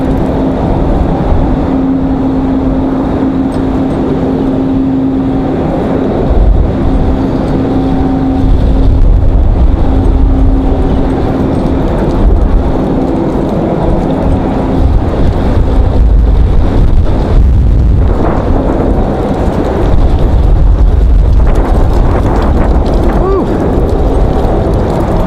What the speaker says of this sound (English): the wind gusts are all over the place